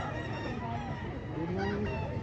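A yellow-legged hatch fighting rooster, a mature bird with a straight comb, makes low clucking and drawn-out crowing-like calls at a gamefowl yard in Lipa City, heard faintly against steady background noise.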